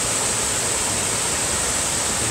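Laurel Fork Falls on the Appalachian Trail, a large waterfall pouring into river rapids, gives a steady, dense roar of rushing water that stays even and close throughout, with no voices.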